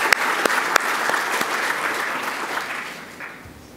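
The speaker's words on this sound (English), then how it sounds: "So big clap for everyone." Conference audience at the Open Repositories official opening clapping for the reviewers, a short burst of applause with a few crisp nearby claps that gradually thins and fades.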